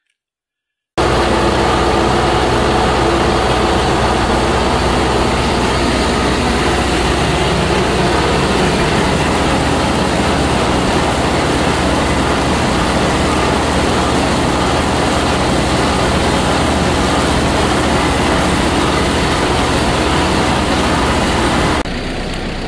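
A tractor engine runs while round baling thick orchard grass hay, a loud, continuous low drone and mechanical roar that starts abruptly after a second of silence and holds steady to the end, with no talking.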